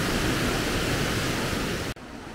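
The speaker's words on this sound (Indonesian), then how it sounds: "Jadi air terjunnya mengalir melewati sungai yang di samping glamping kita." Curug Cipamingkis waterfall pouring into a river beside a glamping site, a steady loud broadband rush of falling water filling the clip, cut briefly near the end and then continuing more softly.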